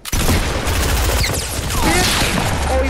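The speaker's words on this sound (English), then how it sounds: "Someone else was shooting me." Loud, rapid gunfire from the Fortnite video game rattles in dense bursts alongside booms and whooshing effects, sustained for nearly three seconds.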